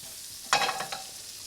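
A spoonful of butter hits a hot pan with a sudden sizzling burst, flaring loudly for about half a second and then fading to a softer hiss, with near silence before it.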